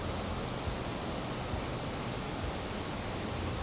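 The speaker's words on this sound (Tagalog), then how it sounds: "May ulan." Steady rainfall with a constant hiss and occasional soft patters, unbroken and fairly close, with no talking.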